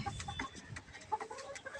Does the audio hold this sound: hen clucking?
yes